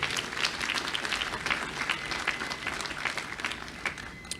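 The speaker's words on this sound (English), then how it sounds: "Let's give them a round of applause." Audience applause at a college student commons dedication ceremony, steady dense clapping from a sizable crowd that holds at an even level throughout.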